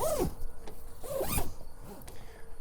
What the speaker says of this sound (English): we have a zipper that can go both ways